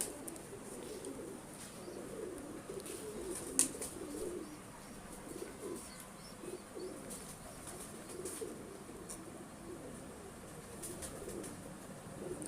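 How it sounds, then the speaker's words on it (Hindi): Salara breed pigeons from a Miyan Sahib bloodline coo softly and repeatedly in a loft, low murmuring phrases overlapping at a moderate distance, with faint clicks, a brief wing or tap sound, and quiet ambient noise. "ये सलारे कबूतर हैं, मियाँ साहब वाली ब्लड लाइन से इनका ताल्लुक़ है"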